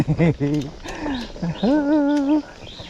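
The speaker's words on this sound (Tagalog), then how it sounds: "sarap pakinggan ng mga sipol ng mga ibon" Birds whistling beside a muddy gravel trail during an 80 km ultra gravel ride, a few clear, wavering whistled calls, some rising and falling, heard near and fairly loud, with faint rustling in between.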